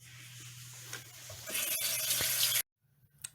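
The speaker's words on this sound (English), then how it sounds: "rinse my hands" Water runs from a tap over rinsing hands, a steady close splashing stream for about two and a half seconds that cuts off abruptly, followed by faint drips and quiet handling.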